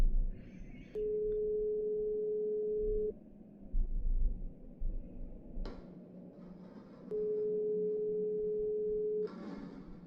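A telephone line in the video game Darkness Within gives two long, steady electronic tones separated by a pause, with faint clicks and handling noise between them.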